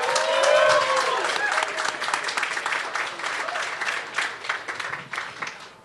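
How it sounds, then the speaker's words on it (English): A large audience at a university LGBT center anniversary event bursts into sustained applause, a dense wash of clapping that peaks early and slowly tapers, with a few cheers mixed in. "So let's give him a round of applause."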